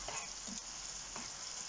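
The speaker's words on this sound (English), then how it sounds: "I'm just going to stir that a bit." Pasta fries in oil with blistered tomatoes, giving a soft steady sizzle and a few faint scrapes as it is stirred.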